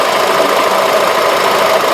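A Honda Element engine runs steadily during a VTEC solenoid test on a car losing power and surging, a loud, constant close-up mechanical drone with slight knocking texture and no speech.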